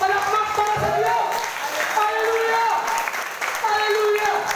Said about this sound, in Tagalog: Palakpak para sa Diyos.